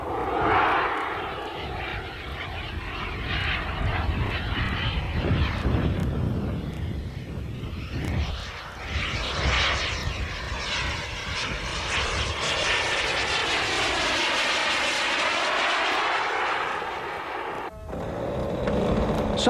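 A radio-controlled model jet with a piston engine driving an internal multi-bladed ducted fan whines and roars, rising and falling in pitch as it sweeps past and circles, loud and continuous.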